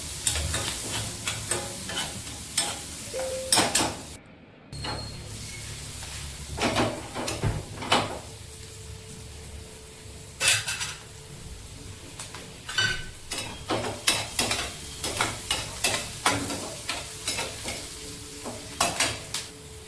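Onion frying in hot oil with hing and a little turmeric, a steady sizzle broken by frequent scraping strokes of a spoon against the pan, close and fairly loud, with no voices.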